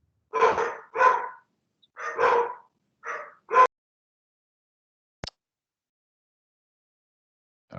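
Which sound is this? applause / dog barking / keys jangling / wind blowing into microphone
dog barking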